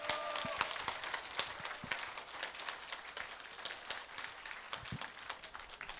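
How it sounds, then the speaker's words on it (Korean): An audience at a Korean political rally in Dobong applauds for a flower presentation, a continuous patter of many hands clapping, fairly soft and steady, with scattered voices underneath. "여러분 뜨거운 박수로 축하해 주시기 바랍니다"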